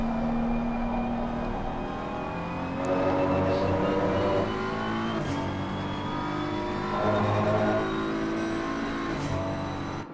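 A race car in Assetto Corsa Competizione at Indianapolis pulls into the pits for a stop-and-go penalty, its engine droning steadily and rising in pitch, with more cars roaring nearby throughout.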